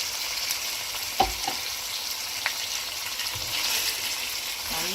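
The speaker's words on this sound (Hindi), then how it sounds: "थोड़ा सा पानी ऐड कर दिया मैं।" Fish karahi frying in a pan as a little water is added, giving a steady close sizzle and hiss with a few faint clinks of a utensil, no talking.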